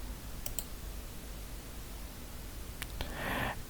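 A quick double click, then a single sharp click a couple of seconds later, over a steady background hiss, with a soft brief rustle at the end.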